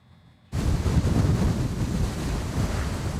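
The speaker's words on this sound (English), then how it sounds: "angry waves at Tres Palacios Bay continue to pound this city by the sea" Angry surf pounds the shore of Tres Palacios Bay during Hurricane Harvey, a loud, continuous roar of crashing waves and buffeting wind that bursts in after a brief quiet moment and stays constant.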